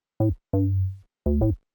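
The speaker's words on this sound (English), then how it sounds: "that is what I would call more of a Juno bass" Three short, deep Juno-style synth bass notes with a hollow, buzzy square-wave tone, the middle one held longer, played alone with silence between, for deep house.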